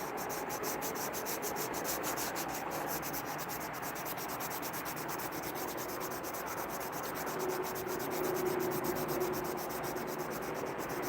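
Slingshots being hand-sanded, a continuous close rubbing and scraping of abrasive on wood, steady and even throughout with no talking.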